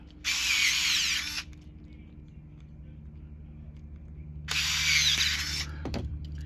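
A power tool tightens clamp nuts on a Favero fencing plug head, giving two loud high-pitched whirring bursts about a second each, with a quiet pause between them.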